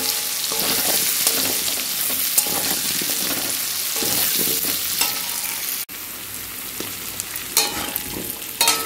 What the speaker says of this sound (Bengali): আলুগুলো আমার লাল করে ভাজা হয়ে গেছে